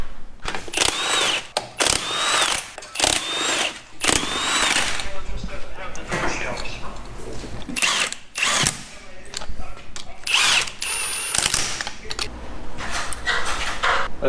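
A power tool such as an impact driver works the lug nuts on a Jeep in a garage, giving repeated short loud rattling bursts separated by pauses, with clanking handling noises between them.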